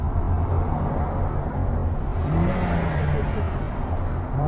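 A motorcycle engine roars and revs steadily throughout at close range, a dense, loud, continuous drone with no voices.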